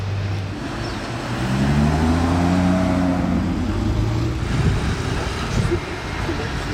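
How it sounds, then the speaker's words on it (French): Two Lamborghini V12 engines, one of them an SV, run side by side with a deep, steady rumble that swells briefly as if revved, while a person talks nearby. "Le V12 est lancé aux côtés d'un autre V12."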